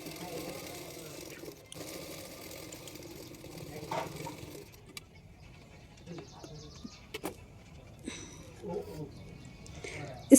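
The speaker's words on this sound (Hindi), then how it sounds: "मैं इस तरह से सिलाई कर रही हूँ।" A sewing machine stitches a kurti suit in short, faint bursts with pauses between, while someone talks quietly over it.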